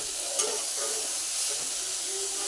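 Leafy greens (saag) stirred and fried in a pan, a soft steady sizzle with a few light scraping stirs, close and fairly quiet.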